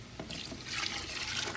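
About a quart of water splashes and gushes into a pot of squash soup made with sage and ginger, a short, soft, steady pour.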